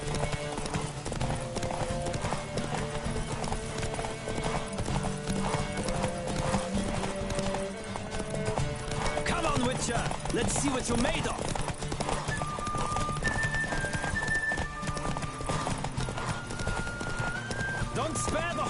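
Galloping horse hooves pound in a fast steady rhythm in The Witcher 3: Wild Hunt, with occasional neighs and a musical score beneath, while a voice speaks over the ride.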